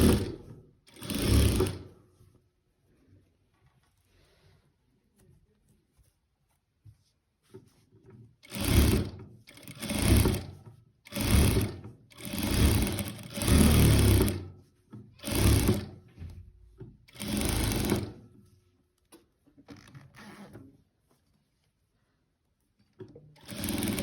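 A sewing machine stitches along the edge of a quilt in repeated bursts, each a loud, fast mechanical whirring run of a second or two, separated by quiet pauses, with no talking.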